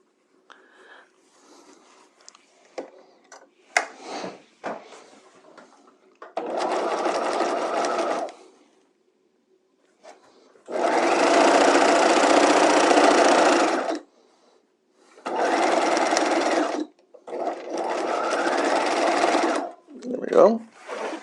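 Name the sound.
sewing machine stitching a seam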